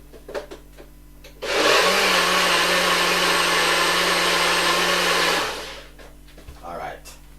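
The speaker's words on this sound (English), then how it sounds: "just run it through the blender" A blender whirs steadily for about four seconds while making carrot juice, a loud continuous motor roar that starts abruptly and winds down, with faint activity before and after.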